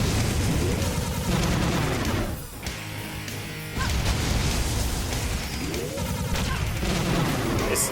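Gunshots in the side-scrolling game Iji, a busy stream of shots and blasts with sweeping electronic effects, loud throughout with a brief lull in the middle.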